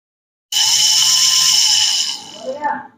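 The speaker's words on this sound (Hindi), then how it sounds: "ये एबीएस शोर शराबा करेगा थोड़ा, अभी आगे से आवाज आ रही है" A car's ABS pump runs during brake bleeding: a loud, steady electric whirring hum for about a second and a half, then winding down into fluctuating mechanical whine.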